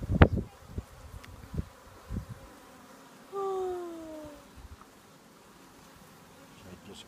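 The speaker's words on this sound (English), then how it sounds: "Should I just grab a hold of that bee?" A honeybee buzzing close by at a hive, a brief rising and falling drone lasting about a second, with handling knocks and rustles around it and little talk.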